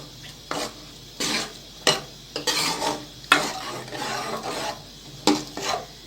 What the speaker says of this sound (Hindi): ये जो बॉयल चने किए थे ये डाल दिए। ये अच्छी तरह मिक्स कर लेते हैं।